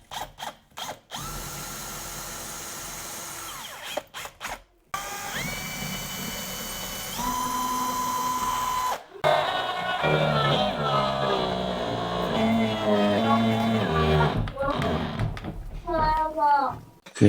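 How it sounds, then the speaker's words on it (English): A power drill bores a pilot hole for coach screws while building a DIY false fireplace media wall. It gives two whirring runs that rise and level off, followed by busier noise with voices nearby. "I think I should put a pilot hole in."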